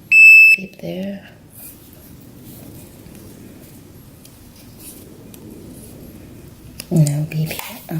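A Fluke VoltAlert voltage tester beeps sharply while held against a string of Christmas lights: one bright tone at the start, then a faint stretch with a voice talking quietly over it.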